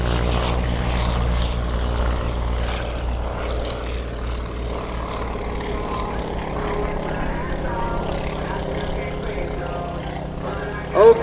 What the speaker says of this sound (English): our different-looking aviation airplane is about to take off.